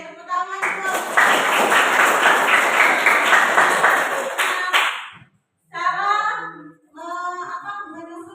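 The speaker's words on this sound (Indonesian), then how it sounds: "Oke, tepuk tangan dulu." A classroom of students claps hands together in a loud, dense burst lasting several seconds, then it breaks off and a voice speaks.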